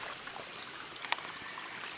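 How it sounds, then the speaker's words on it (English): Storm water runs across a driveway, a faint steady trickling wash with one brief sharp tick partway through. "have water flowing"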